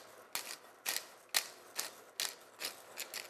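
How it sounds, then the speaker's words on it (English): A pepper mill grinding fresh pepper gives seven or eight crisp ratcheting crunches in an even rhythm, close and fairly quiet, with no talking. "some freshly ground pepper"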